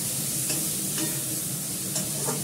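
Onions with garlic and ginger fry in oil on low gas, giving a constant close sizzle broken by several rhythmic scrapes of a spatula stirring the pan.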